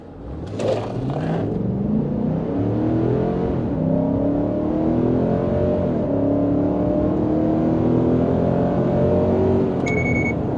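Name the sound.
pickup truck accelerating 0 to 60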